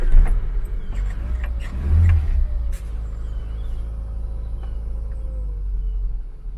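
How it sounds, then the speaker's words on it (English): Austin Allegro engine idling, then a couple of throttle pumps that raise a brief rev near the start and another around the two-second mark, settling back to a steady idle inside a garage. "Couple pumps of the throttle."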